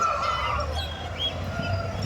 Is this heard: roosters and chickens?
yes